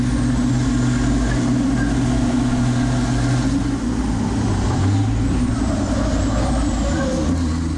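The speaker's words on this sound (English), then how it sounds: "The German in her orange and white Iveco, number 44, pushes hard and wants to overtake Jose Rodriguez right at the beginning" An Iveco race truck engine roars during a European Truck Racing round at Le Mans, a loud continuous drone blending with other trucks in the field and steady without a break.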